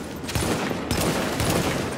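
Gunfire in the video game The Division, aimed at enemies' tanks: a dense, continuous burst of rapid shots with a noisy, echoing backdrop and no pauses.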